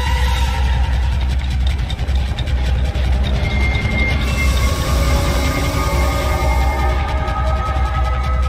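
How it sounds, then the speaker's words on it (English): A train arriving in the video game Project Playtime gives a steady, loud low rumble and rolling rail clatter for several seconds, with a faint higher hiss above and no talking. "Train should be here shortly."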